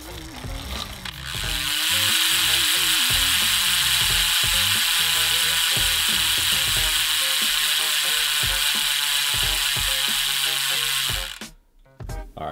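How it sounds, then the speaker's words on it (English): A Scribe Alloy Race lightweight wheelset on a Yoeleo R6 road bike has its freehub ratchet clicking as a loud, rapid, continuous buzz that runs for about ten seconds and then stops abruptly, heard up close with no talking. "here is a free hub sound test on my Scribe Alloy Race"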